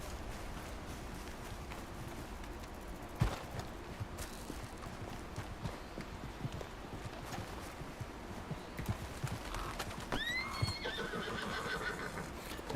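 A horse in a video game whinnies loudly near the end, rising over a steady patter of hooves and busy outdoor background; no one speaks.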